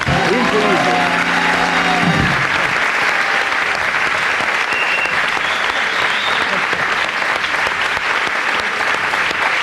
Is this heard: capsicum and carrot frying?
no